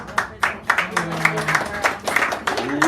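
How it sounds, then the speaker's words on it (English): Poetry-hour crowd at a San Francisco cafe clapping in a round of applause, uneven bursts mixed with a voice talking over it. "Give him a round of applause."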